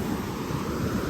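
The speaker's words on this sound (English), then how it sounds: "Ooh, whoa, look at the waves." Ocean waves at Wreck Beach, a brief soft wash of surf with some wind noise, steady and moderately quiet with no voices.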